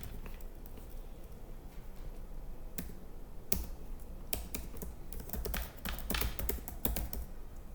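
An email address being typed on a computer keyboard: quick, close key clicks in uneven bursts with brief pauses, over a low steady background hum.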